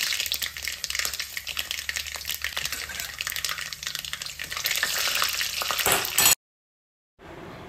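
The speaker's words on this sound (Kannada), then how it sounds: "ಇಲ್ಲಿ ಒಗ್ಗರಣೆಗೆ ಒಂದು ಸ್ವಲ್ಪ ಎಣ್ಣೆ, ಹಾಗೆ 1 ಚಮಚ ಸಾಸಿವೆ ಮತ್ತು ಒಂದು 2-3 ಬ್ಯಾಡಗಿ ಮೆಣಸಿನ್ಕಾಯಿಯನ್ನು ಕಟ್ ಮಾಡಿ ಹಾಕಿದ್ದೀನಿ" Oil tempering in a pan for sambar with mustard seeds, cut byadgi chillies, garlic and curry leaves, giving a loud, steady crackling sizzle that runs for several seconds before a sudden cut to near silence.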